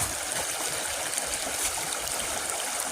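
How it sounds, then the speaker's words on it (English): Creek water flows in a steady, close, continuous broadband rush with trickling texture, loud and unbroken, with no voices. "That's a creek."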